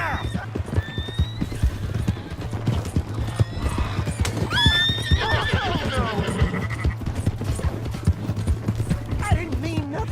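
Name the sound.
horse galloping and neighing in video game Red Dead Redemption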